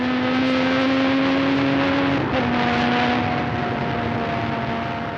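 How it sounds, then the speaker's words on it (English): Onboard a Formula 1 car at Imola, the engine screams at a high pitch as it accelerates hard toward Tamburello. The tone rises steadily and jumps once at a gear change, loud and constant with no talk. "Warwick accelerates hard, approaching 190 miles an hour by the time he turns into Tamburello"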